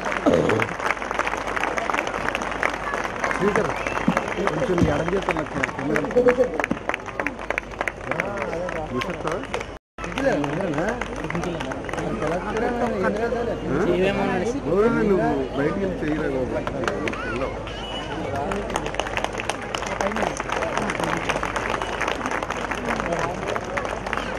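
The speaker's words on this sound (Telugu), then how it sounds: "దయచేసి ఒకసారి అందరూ కూడా నాన్ స్టాప్ గా చప్పట్లు కొడుతూ ఉండండి" A large audience claps loudly and continuously, with a brief break in the middle. The clapping carries on under ongoing speech at a ceremony blessing young children.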